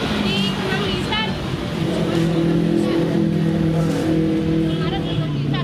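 Traffic hums on a jammed road in Kenangisan, a steady, dense drone of idling and creeping car engines heard close by. Someone talks over it throughout.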